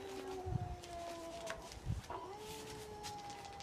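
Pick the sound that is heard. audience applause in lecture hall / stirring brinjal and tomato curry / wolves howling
wolves howling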